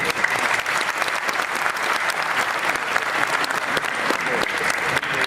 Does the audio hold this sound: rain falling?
no